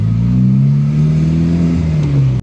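A Honda Civic Type R engine held around 2,000 RPM in third gear hums steadily with a strong low drone and slowly rising pitch, close and loud throughout without talk.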